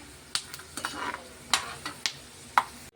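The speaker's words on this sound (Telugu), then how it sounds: "ఇంకా చూడండి మనకి వేరుశనగ గుళ్ళు కూడా చాలా బాగా ఫ్రై అయినాయి కదా" Peanuts and curry leaves fry in a pan for a homemade snack mixture, a low sizzle punctuated by several sharp scrapes and clinks of a spatula stirring against metal.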